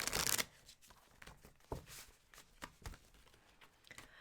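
Tarot cards are shuffled close by in quick, uneven riffles and soft slaps, opening with a sharp burst and followed by scattered crisp flutters at a fairly quiet level, without any speech.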